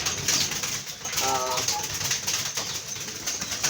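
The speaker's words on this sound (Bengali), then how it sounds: "দেখেন, একটা কবুতর বাচ্চা" Pigeons coo in a short, clear burst of a few low, rolling notes around the middle of the clip, over a steady noisy background where chicks are being raised.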